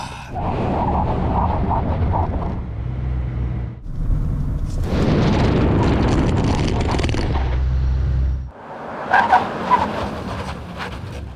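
Audi RS Q8 and Mercedes-AMG GLE 63 S SUVs brake hard to a stop at cones after a drag race, with loud engine and tyre roar in two long surges, wind buffeting the microphone between them.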